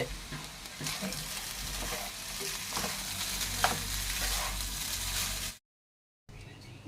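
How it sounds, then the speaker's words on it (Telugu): Raw mango pulihora being mixed in a hot pan: a continuous loud scraping and sizzling rustle with occasional spoon knocks, cut by a short silent gap before it resumes, with no voices. "ఒకసారి మిక్స్ చేసేద్దామండి"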